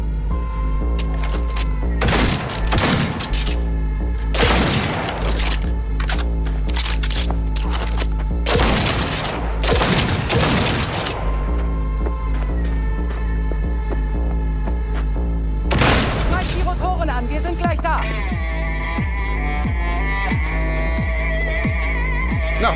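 Bursts of gunfire in Cyberpunk 2077 on PS5 as the shooter blasts through cables, several loud broadband volleys spaced irregularly over a constant low throbbing hum, with a brighter tonal whine rising near the end.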